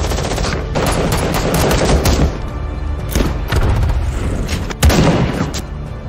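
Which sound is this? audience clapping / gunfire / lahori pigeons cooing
gunfire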